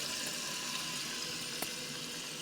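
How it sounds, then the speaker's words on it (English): A toilet tank refills through a newly replaced fill valve, water hissing steadily at close range, with a faint click near the middle and a brief knock at the end. "Now we're going to look in here and see if this potty is filling up."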